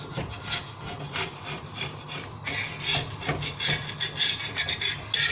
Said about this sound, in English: We need our tongs. to just coax it off the tawa a little from all sides.